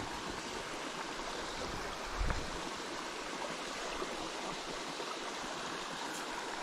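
A small brook trout creek flows steadily, a continuous close rushing of water with one brief low thump and no voices.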